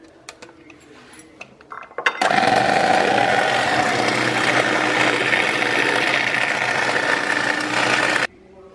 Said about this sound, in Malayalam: ബീറ്റർ ഉപയോഗിച്ച് വേണം അത് ചെയ്യാനായിട്ട്